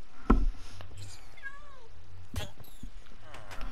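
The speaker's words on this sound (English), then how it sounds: "Why is there a cat in here? Because it's my cat." Minecraft cat meows in a video game, a few short mewing calls spread through the clip over a steady background hum.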